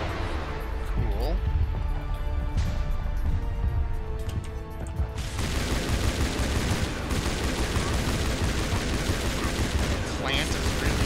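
Gunfire in the video game Mass Effect Legendary Edition crackles in dense, continuous bursts, growing louder and fuller halfway through, with someone talking over the shooting.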